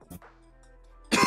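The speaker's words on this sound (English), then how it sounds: "you just going to cough?" Two quick coughs near the start, followed by a louder burst of voices talking at the end.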